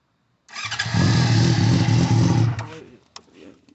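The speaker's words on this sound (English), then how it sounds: "y'all ready for the FZ6? We're gonna give you some revs." A Yamaha FZ6 motorcycle engine fires up and revs hard for about two seconds, loud and close, then drops back to a rough idle with a couple of short blips.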